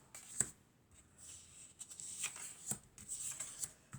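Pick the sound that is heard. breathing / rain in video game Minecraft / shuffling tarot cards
shuffling tarot cards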